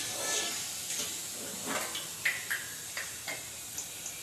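Wheat diamond cake snacks deep frying in oil, a faint hissing bubble with several short crackling pops spaced through, low in level and without talk.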